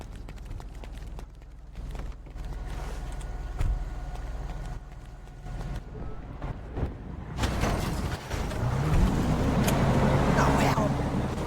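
A car is driven in the GTA video game, its engine droning under game noise and a player's speech before revving up loudly and rising in pitch near the end.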